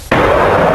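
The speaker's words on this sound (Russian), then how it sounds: "Такая танковая и пулеметная стрельба может не стихать по несколько часов в день" Loud, sudden burst of tank and machine-gun fire at a front line near Semenovka in Donbas, a single abrupt blast onset that stays roaring and dense to the end.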